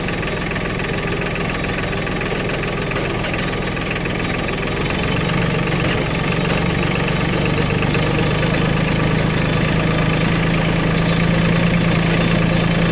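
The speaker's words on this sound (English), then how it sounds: "this tractor, the Mahindra 1526, comes through again." A 2017 Mahindra 1526 tractor engine idles, a loud, close, steady diesel rumble with a knocking throb that runs unbroken and grows slightly heavier partway through, with no talking.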